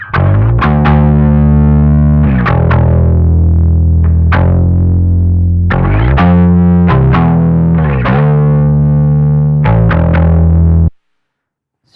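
A gritty, distorted electric bass guitar played with a pick and dialed in for a worship bass tone. It plays a loud, sustained line with clearly articulated note attacks and no voice, then stops abruptly near the end.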